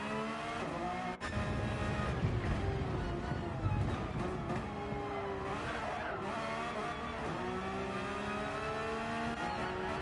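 Race car engines in a sim racing league game roar and whine continuously during a pit stop phase, several cars layered with shifting pitch and steady loud drone throughout, with brief tyre noise.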